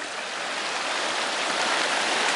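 Muddy brown river in flood, a dense, steady rushing of flowing water heard up close, loud and unbroken throughout, with no voices.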